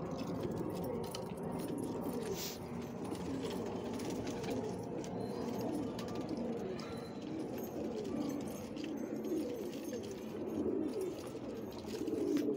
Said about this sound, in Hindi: दो ही कबूतर रह गए ऊपर, ये दोनों उड़ रहे हैं